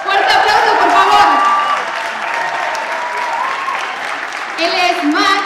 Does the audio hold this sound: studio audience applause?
yes